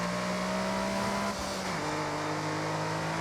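A 1991 Honda Beat driven around a racing circuit in Forza Horizon, its small engine holding a steady, close droning note with a brief dip and shift in pitch partway through, as if changing gear.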